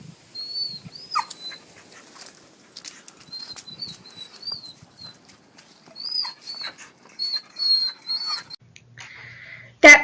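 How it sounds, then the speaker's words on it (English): A dog recovering from a spinal cord embolism makes faint, high whimpering and whining sounds in a quiet home, with scattered soft rustles and a brief louder noise at the end. "That previous slide was just a video that I had on my computer of my dog."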